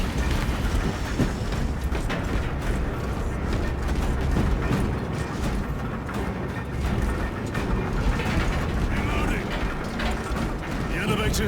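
Elevator machinery arriving in Warhammer 40,000: Space Marine 2, a loud continuous mechanical rumble and clatter that grinds on steadily for the whole stretch, with no break.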